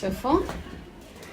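Small birds on a home balcony give a brief, bright chirp close by, partly under someone speaking softly.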